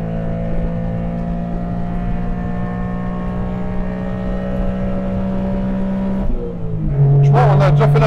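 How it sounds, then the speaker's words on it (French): Small Honda Beat roadster engine pulling uphill from inside the cabin, a steady loud droning hum that shifts to a higher, rougher note near the end, with no talking. "Le moteur, je pense qu'on l'entend."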